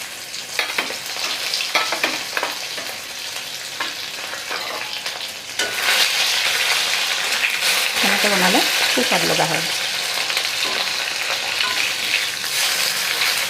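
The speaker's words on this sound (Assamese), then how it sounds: "এতিয়া মাছৰ মূৰখিনি দি দিছোঁ" Fish heads rubbed with turmeric and salt fry in a kadai, a loud steady sizzle that swells partway through, with a voice talking briefly over it.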